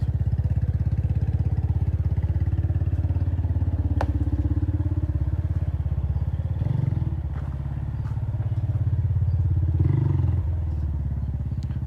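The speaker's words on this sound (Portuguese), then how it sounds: "Barulho de moto." Motorcycle engine running steadily nearby, a continuous loud low rumble for the whole stretch with slight swells around the middle and end as it passes.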